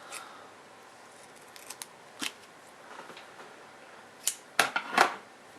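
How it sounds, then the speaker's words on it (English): Scissors snip through excess duct tape while trimming a homemade duct tape wallet, a handful of sharp, close cuts clustered near the end, with quieter rustling of tape between them. "and then just trim off any excess"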